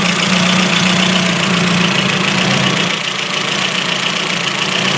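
A Ford Focus MK1 RS engine idles with a misfire, a loud close rumble with an uneven, stumbling beat and a shift in tone partway through, heard with no talking.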